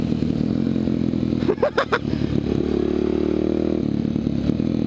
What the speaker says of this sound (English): So this mini moto, you watch him trash me around the corners.